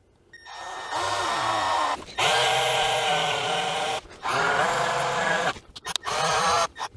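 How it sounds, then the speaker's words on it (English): A drill bores a passage into a Torqueflite 904 transmission valve body held in a vise, giving a loud, close, steady whine in three long bursts with short pauses between, then a few quick stops near the end. "I got my valve body in a vise just to help hold it flat, hold it steady while I drill this down."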